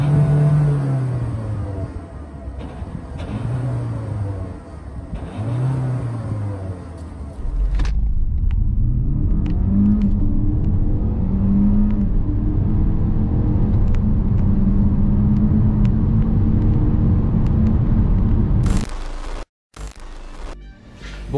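A Peugeot 508 PSE SW sports estate engine blips through a few rising revs, then settles into a loud, steady rumbling drone, cutting out briefly near the end.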